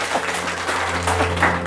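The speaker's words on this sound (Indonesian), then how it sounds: "Alumni sekolah minggu boleh tepuk tangan buat Tuhan Yesus" Church congregation clapping their hands during a sermon, a dense steady patter at moderate level with a sustained musical tone underneath throughout.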